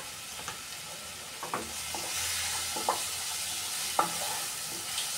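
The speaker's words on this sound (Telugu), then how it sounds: "ఒక 5 మినిట్స్ బాగా వేయించుకోవాలి" Raw tamarind frying in a pan for an old-style tamarind pickle, a steady soft sizzle with a few scattered stirring clicks and scrapes, moderately quiet and with no voices.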